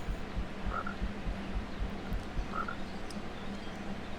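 Frogs croak in a cartoon soundtrack from Winnie the Pooh, repeated low croaks over a steady chorus of background frog calls, moderately loud with no talking.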